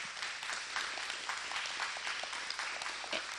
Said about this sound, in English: I'd like to give all of our students here a great round of applause.